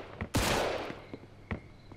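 Gunfire in Mafia II: a single sharp, loud shot lands early, followed by a sustained burst and a couple of fainter isolated reports spaced apart.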